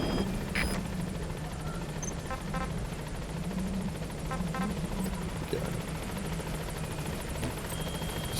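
A helicopter arrives at a landing zone in Metal Gear Solid V, its rotor producing a steady, loud, low chopping drone that fills the scene, with brief scattered game effects on top.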